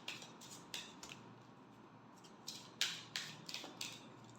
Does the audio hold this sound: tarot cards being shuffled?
yes